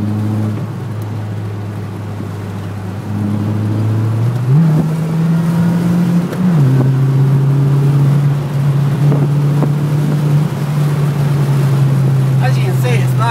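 A Toyota MR2 AW11 drives down the mountain road on Mount Kira, its engine droning steadily from close inside the car, rising in pitch as it revs through gears, with a brief shift around the middle and road and wind noise underneath.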